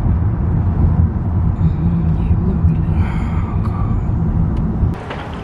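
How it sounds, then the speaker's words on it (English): Road traffic near a Target store rumbles steadily and low for several seconds, a continuous wash of passing cars and engines with no clear single vehicle standing out. "Why is this traffic like this?"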